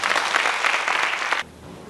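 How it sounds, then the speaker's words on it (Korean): At a tenth-anniversary concert, an audience gives senior performers a vigorous round of applause, a dense burst of clapping that stops abruptly partway through, leaving near silence. "선배님들께 다시 한 번 힘찬 박수 부탁드리겠습니다."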